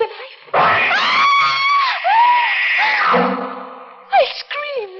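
In a horror radio drama, a person lets out long, wavering, echoing screams of terror, rising and falling in pitch, with a sharp bang and further cries near the end.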